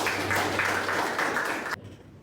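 Classroom applause from students during a university teaching session, a dense burst of many hands clapping close by for under two seconds before cutting off abruptly.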